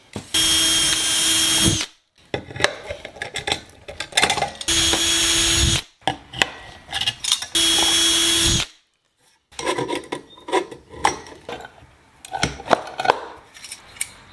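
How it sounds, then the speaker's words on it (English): A power drill drilling pilot holes whirs in three loud bursts of a few seconds each, separated by clattering, scraping handling noises and brief pauses. "I've got a couple of holes here I need to drill now, just pilot holes."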